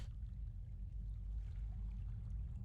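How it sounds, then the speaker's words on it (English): Water flows steadily in a World of Warcraft cave, a continuous low rushing wash that holds an even level throughout with no distinct splashes. "That water sounds so much more calming than the situation that I'm in."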